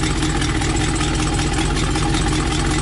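An RV engine runs with a loud, steady, rumbling drone heard up close from underneath the vehicle, without pause or talk.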